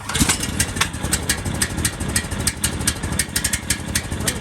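A Harbor Freight 459cc Max Performance engine fitted to an American Landmaster Trail Wagon runs close by, a loud, steady, throbbing idle with a rapid firing pulse and no pauses.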